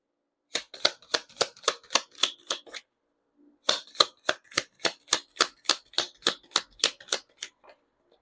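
Tarot cards being handled and shuffled in rapid, evenly spaced crisp snaps, with one run of about ten, a short pause, then a second longer run, close up and without talk.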